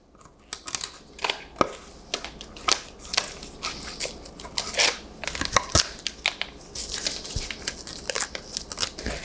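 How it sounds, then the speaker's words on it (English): Palette knife scraping wafer paper decorations off a styrofoam cake dummy: a dense run of crisp scratches, crackles and snapping crunches in irregular bursts, close up, with no talking. "I just usually take something like a palette knife and remove as much as I can."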